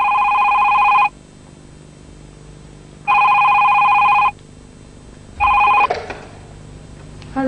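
An old landline telephone bell rings in three bursts, two long rings and a short cut-off third, in an indoor comedy drama scene, clear and loud with short silent gaps between rings.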